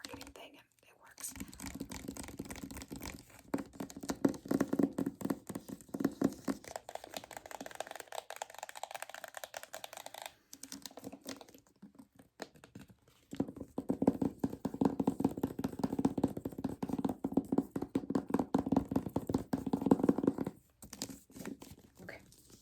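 Fingers tap, scratch and trace across a book cover with stickers in a close, quiet ASMR setting, quick soft clicks and rustles in dense irregular runs, with whispering voice throughout.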